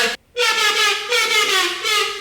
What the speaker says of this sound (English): I kind of get more tonality in it and kind of like the horn sound.